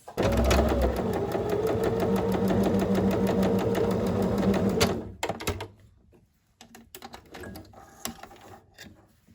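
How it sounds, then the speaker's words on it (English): Sewing machine stitching across a fabric thumbhole opening, running loud and steady at close range for about five seconds, then stopping, followed by scattered handling clicks and light rustling of cloth. "I'm just gonna sew in between where that actual thumb opening is"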